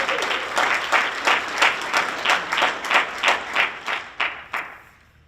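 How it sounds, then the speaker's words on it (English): Audience applause at a HUBZone small-business conference, a crowd clapping in a loose rhythmic pulse that builds and then tapers off to quiet. "That deserves an applause."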